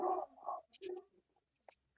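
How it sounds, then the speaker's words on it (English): A dog gives a few soft barks and short whimpering yelps close by, in quick bursts that trail off into quiet whines with no other sound. "Sorry if y'all hear my dog bark in the background."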